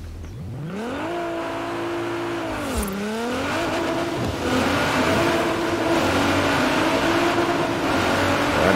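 A car's engine in the racing game Forza Horizon 4, loud and close, revving up steeply, dropping sharply at a gear shift and then climbing again through higher gears under steady road noise.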